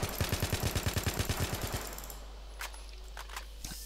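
An assault rifle fires rapidly in Battlefield 3, a quick evenly spaced burst of about fifteen shots lasting under two seconds, followed by faint mechanical clicks and handling sounds, close with no talk.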